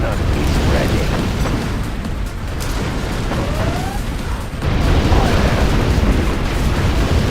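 Scud Storm missile strikes in the real-time strategy game Command & Conquer Generals Zero Hour, heavy rumbling explosions and booms in a dense continuous barrage, loud and close.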